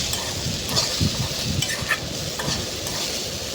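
Okra slices frying in oil with salt and turmeric are stirred in a pan, a steady sizzle broken by repeated scraping strokes of a utensil at a close, moderate level.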